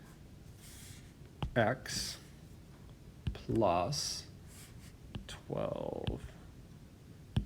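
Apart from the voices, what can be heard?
typing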